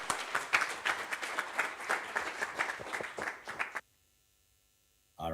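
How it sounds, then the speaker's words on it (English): A conference audience at the OpenSIPS Summit in Athens claps for a remote speaker. The applause is moderately quiet with distinct overlapping claps, stops abruptly partway through, and a brief sound returns after a short silence. "Let's give Lorenzo a round of applause."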